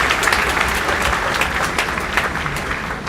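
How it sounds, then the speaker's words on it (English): An audience at a tech event applauds, dense clapping sustained evenly throughout, with a few louder claps and a murmur of crowd voices underneath. "Give a good round of applause to them."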